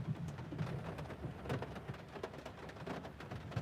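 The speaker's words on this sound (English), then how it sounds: "Do y'all not hear the rain?" Steady rain patters and splashes on a surface close by, with scattered sharp drop hits over a dense background hiss, and no voices.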